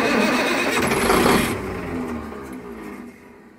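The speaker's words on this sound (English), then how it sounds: "Starts and immediately shuts down like it's not getting any fuel." An auction-bought diesel work unit with an electronically controlled engine and a suspected fuel-supply fault cranks and catches loudly, runs for about a second and a half, then dies away into fading quiet.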